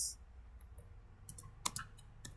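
A computer keyboard in a lab setting, with a few sparse key clicks under a low background hum, followed by a sharper, slightly louder keystroke like the enter key.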